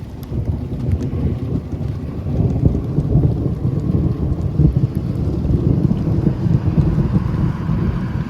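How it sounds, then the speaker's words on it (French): As a dying storm passes over Normandy, low thunder rumbles on and on beneath a steady wash of rain and wind buffeting the microphone. "Un orage mourant."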